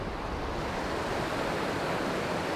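Strong wind roars steadily beside a high mountain lake, a dense broadband rush with no breaks, close and loud throughout, with no voices.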